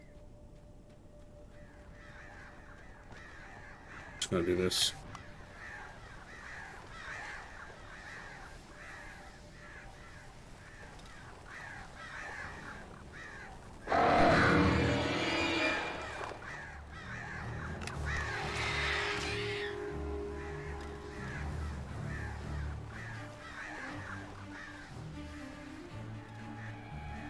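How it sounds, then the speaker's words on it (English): Crows caw and swarm in an attack in Alan Wake Remastered, with a brief sharp burst early on and a louder, drawn-out flurry of cawing and wingbeats midway through, over low game ambience and a single short spoken line. "I feel like I'm fighting the invisible crows in The Legend of Zelda."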